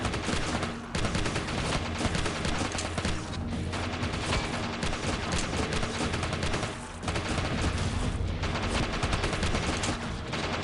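Dense, continuous gunfire in the shooter game Killing Floor, a relentless loud barrage of overlapping shots that pauses only briefly twice.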